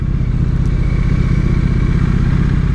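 A Triumph Street Twin motorcycle engine braking through a downshift, a steady loud close-up engine drone with a low pulsing rumble throughout and no speech.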